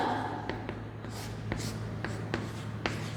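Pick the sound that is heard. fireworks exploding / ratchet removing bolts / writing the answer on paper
writing the answer on paper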